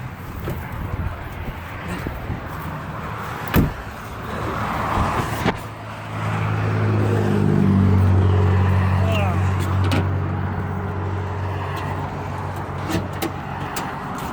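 A Buick 455 big-block V8 runs in a 1970 estate wagon that is overheating, with a steady low engine hum that swells and grows louder midway before settling back, close by under faint voices.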